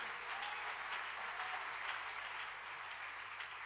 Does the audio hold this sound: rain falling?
no